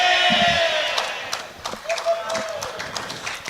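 A bar crowd at a lawn bowls finals match cheers loudly with shouts and some clapping, with an excited roar that dips and swells again, and a commentator's voice heard alongside.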